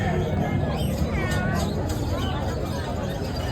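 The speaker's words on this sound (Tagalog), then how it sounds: "Ang dami pusa rito." Cats meowing at a crowded animal sale, several high, wavering meows rising over a constant murmur of people chatting nearby.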